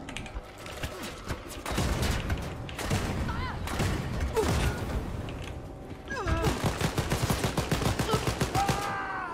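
Gunfire in the Wolfenstein Youngblood video game: loud, dense volleys of rapid shots with mechanical clatter and game effects, the firing growing into a fast automatic rattle toward the end.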